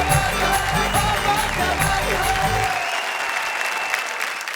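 At a Hindi-Urdu poetry gathering, an audience bursts into loud, sustained clapping that fills the hall for several seconds, then trails off into thinner scattered claps.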